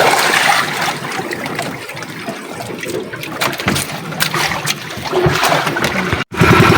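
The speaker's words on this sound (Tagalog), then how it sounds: "Ang alon na malaki." Big waves slosh and break around a small fishing boat at sea during a strong storm: continuous loud rushing, splashing water with surging swells and a brief dropout near the end, no voices.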